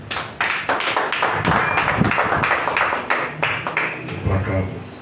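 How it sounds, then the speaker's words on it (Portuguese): Church congregation clapping in a Portuguese-language worship service, a dense burst of applause at moderate distance with voices speaking over it, fading toward the end. "Aplauda o Senhor Jesus."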